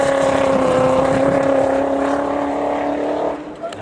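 A forest rally car, apparently with an automatic gearbox, its engine holding a loud, steady high drone with strong harmonic tones that dips near the end as it eases off, close and dominant.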